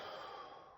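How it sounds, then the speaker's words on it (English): Deep breaths during a yoga session: a steady breathy rush of air, close and fairly soft, fading slightly toward the end, with no talking. "We're going to take a deep breath in. And out, exhale."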